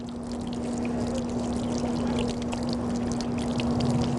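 Water pours steadily inside a car hand-washing device, a soft continuous rush with a steady hum beneath it, alone and at an even level throughout.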